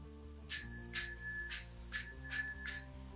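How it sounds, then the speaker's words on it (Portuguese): A quiz-game buzzer bell at a Rock in Rio 2019 challenge rings six times in quick succession, each a bright metallic ding with a short ringing tail, loud and close over a faint low background hum. "Essa campainha aqui. E quem apertar a campainha tem o direito de responder."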